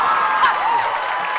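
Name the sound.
audience applause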